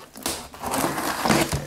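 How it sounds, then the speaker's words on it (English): Keys drag and slice through packing tape on the side of a Lenovo ThinkPad Tablet box, making a close, scratchy tearing rasp in a few uneven strokes over under two seconds. "Slice up this tape here on the side."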